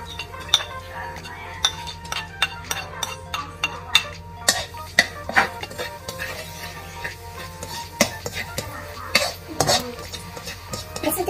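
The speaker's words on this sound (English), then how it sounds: "Okay, let's saute garlic and onion first." Garlic and onion sauté in a small amount of oil for a noodle dish, the pan ringing with frequent sharp clinks and scrapes of a metal utensil over a soft sizzle, with a voice talking at times.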